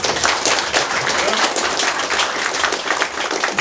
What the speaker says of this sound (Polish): teraz wielkie brawa dla naszych trzech posłów